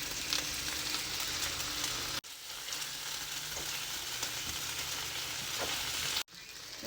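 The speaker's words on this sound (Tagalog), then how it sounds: "Konting saute lang. Nilagay na natin tong chicken sisig." Chicken sisig with onion sautés in a pan, a close, steady sizzle with light stirring scrapes, briefly cut off twice and resuming at once.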